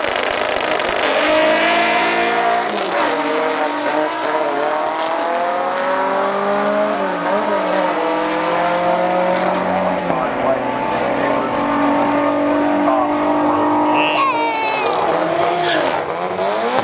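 Drag racing cars accelerating hard at a West Coast VW show, engines rising in pitch with a sharp tire squeal and a car passing near the end, loud and continuous over crowd chatter.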